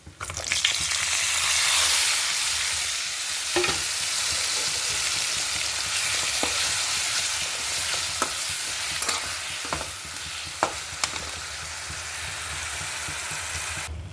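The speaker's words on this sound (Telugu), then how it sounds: "ఇప్పుడు ఈ ఉల్లిగడ్డల కారం వేసుకుందాం." Onion chili paste frying in a pan, a steady loud sizzle and hiss with occasional clinks and scrapes of a stirring spoon against the pan, and no voices.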